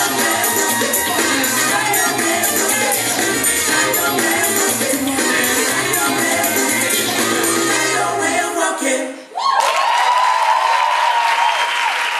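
Audience at a locking dance festival applauding, dense sustained clapping and cheering that briefly dips, then resumes as music starts up.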